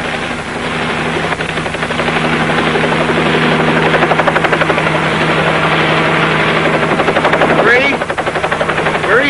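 A loud helicopter engine drones close by with a fast rhythmic rotor chop, steady throughout and briefly swelling near the end.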